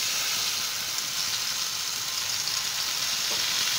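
A paste of ground cumin and turmeric loosened with a little water goes into hot oil for a fish dish, giving a steady, even sizzling hiss that holds at one level throughout with no voices.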